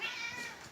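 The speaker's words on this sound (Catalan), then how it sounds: "Aquí tenim un gat." A house cat meows once in a drawn-out, high, tonal call that sustains for under a second, fairly close and alone without talk, with rain outside.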